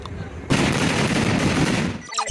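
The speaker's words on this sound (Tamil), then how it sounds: "மேச்சேரி பவளத்தாம்பட்டி வான வெடிக்க ஸ்டார்ட் ஆயிடுச்சு." Fireworks at a festival display in Mecheri near Pavalathampatti burst in a dense, continuous crackling barrage, loud and close for about two seconds before abruptly cutting off.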